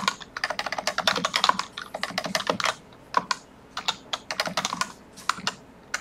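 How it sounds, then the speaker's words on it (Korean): Someone types on a computer keyboard at a steady, unhurried pace during a programming seminar demo, with bursts of rapid clicks broken by short pauses and no talking. "그래서 타이핑 좀 늦게 하는 거예요."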